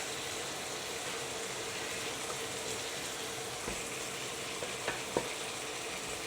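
Sinigang with string beans and tomato cooks in a pan with a soft, steady sizzle and bubbling. A few faint clinks and taps sound near the end, and no one speaks.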